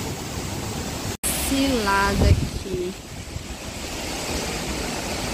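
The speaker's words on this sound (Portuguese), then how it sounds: "Vento muito forte. O vento até assobia." Strong Hurricane Ian wind roars as a constant loud rush. It cuts out for a moment, and a voice speaks briefly in the middle.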